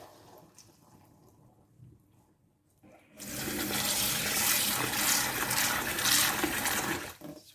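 Cloudy, milky rice-rinsing water tipped out of a saucepan. A quiet start gives way to a loud, steady gush and splash of pouring water lasting about four seconds, with no talk.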